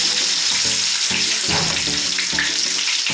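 Eggs and fish fry in hot oil with a loud, dense crackling sizzle, joined by rhythmic bursts of clatter roughly every half second as the food is turned, close up and continuous with no voices.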